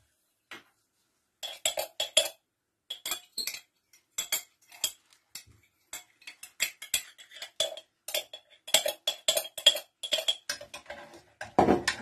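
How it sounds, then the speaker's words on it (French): A spoon clinks and scrapes briskly against a container while lye is stirred into water for cold-process shaving soap, giving rapid irregular close metallic taps with short pauses. "Mélange bien le tout jusqu'à dissolution complète de ta soude"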